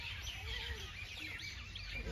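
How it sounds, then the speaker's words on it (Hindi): Small birds chirp and tweet inside a garden, a busy layer of overlapping high calls over a low rumbling background at moderate distance. "चिड़िया खूब चहक रही है अंदर"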